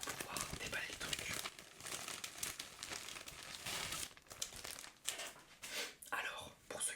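Close, soft crinkling and rustling of packaging being handled and pulled apart, irregular bursts of crackle with faint breathy sounds.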